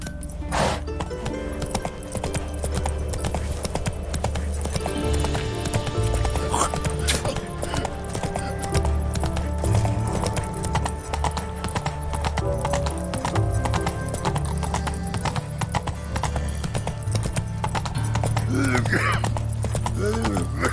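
Horse hooves galloping in The Witcher 3 video game, a steady rhythmic clip-clop running throughout with occasional whinnies and a voice speaking over it.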